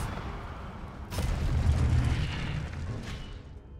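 Incendio fire spell cast in the video game Hogwarts Legacy: a deep whooshing burst that swells suddenly and roars for a couple of seconds, then fades into a low rumble.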